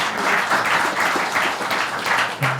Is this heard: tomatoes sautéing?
no